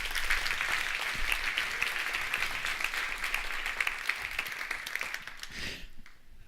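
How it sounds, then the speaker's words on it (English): An audience gives Michael Smith a round of applause. The clapping is dense and sustained for about six seconds, then fades out quickly at the end. "Can we give Michael a round of applause?"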